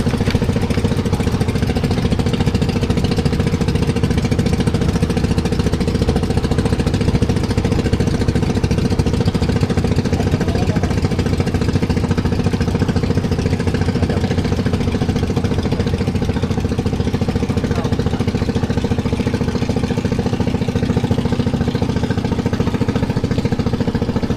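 A steady boat engine drones loudly and continuously, a low chugging rumble that holds without pause throughout, as the boat tows another boat.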